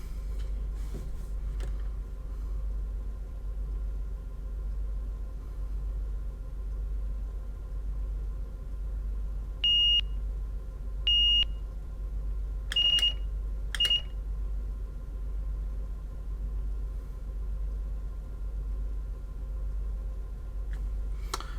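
A cab buzzer in Train Simulator, driven from hardware controllers, gives four short electronic beeps in two pairs over a steady low rumble of the locomotive engine.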